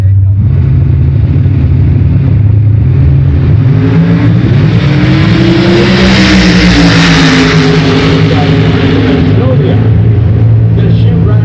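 A 1963 Corvette makes a loud drag racing pass at an NHRA event, its engine a sustained roaring drone that climbs in pitch through the run, with an announcer talking over it.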